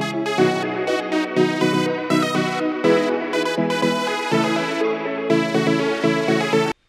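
In FL Studio, a bright synth melody runs together with a Uzi-style lead, playing dense, choppy chord and note stabs in a bouncy rhythm, loud and without voices, before cutting off abruptly at the end.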